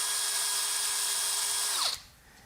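A power drill whines steadily at high pitch while boring into a metal radio chassis, then spins down and stops near the end, leaving a quieter background.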